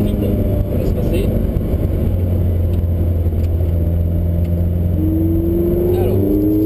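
At the Nogaro race circuit, a car passes over a constant close engine drone, with a rising whine building near the end.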